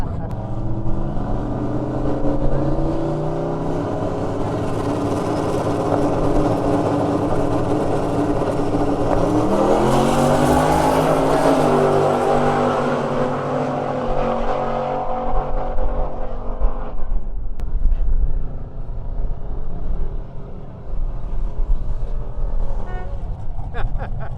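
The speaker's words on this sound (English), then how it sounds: "you finally did a burnout in this truck?" A truck doing a burnout revs its engine hard, a loud, sustained roar that climbs in pitch and then drops off, with people talking over it.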